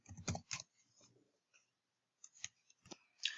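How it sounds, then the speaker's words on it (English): Computer keyboard keys tapped while typing a short note: quiet clusters of light clicks, a quick burst at the start and a few scattered taps toward the end with a pause between, close and faint. "So we'll type in a note."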